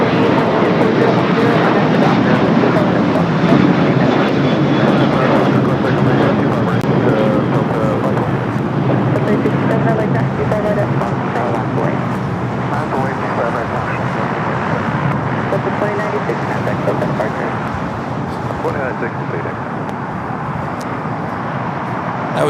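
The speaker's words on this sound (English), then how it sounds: "That was Delta Flight 2096 heading to New Orleans, the 737-800." A Delta Boeing 737-800 jet takes off at LAX, its broadband engine roar loud and sustained for the whole stretch, fading only slightly toward the end, with voices talking over it.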